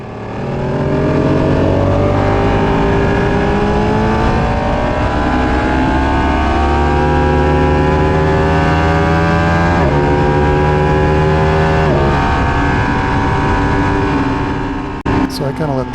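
A car laps the track at Palmer Motorsports Park in a continuous loud onboard engine roar, climbing through the revs, dropping on upshifts and lifting under braking, with a brief clatter near the end.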